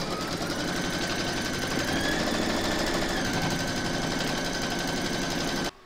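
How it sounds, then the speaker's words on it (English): An embroidery machine stitches an applique round for a large sloth design held in a hoop, running with a steady, loud, fast mechanical rattle and hum throughout before stopping abruptly near the end. "Pop your hoop into your machine and stitch round number two to secure it."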